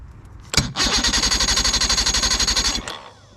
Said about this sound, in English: Let's see if this thing will actually start up real quick.